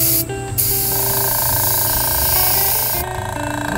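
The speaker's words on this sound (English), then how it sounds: "Saws don't freak me out, but an airbrush, ooh." Airbrush spraying paint onto a thrifted lantern: a steady, close compressed-air hiss runs almost without a break, with short sharp bursts as the trigger opens and releases.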